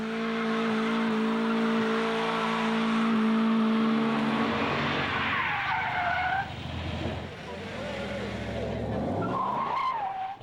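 Street racing cars warming up on a quiet stretch of road, with loud, sustained tire squeal and skidding mixed with engine roar and revving, rising and shifting pitch, close and dominant throughout.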